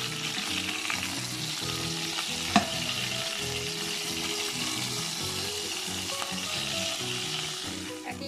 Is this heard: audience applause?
no